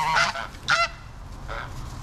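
Geese honk close by on soft hay, three loud nasal honks spaced about half a second to a second apart.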